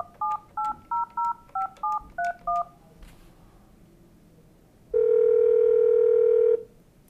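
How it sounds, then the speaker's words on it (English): A Polycom IP335 IP desk phone dialing an external number: eight quick, evenly spaced DTMF keypad tones, a short pause, then a single steady tone lasting about a second and a half, all clear and close. "I hit transfer and I dial an external number."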